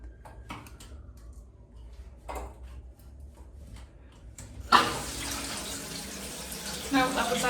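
Hotel shower water switched on partway through, a sudden loud steady rush of running water after quieter handling clicks and knocks, continuing to the end.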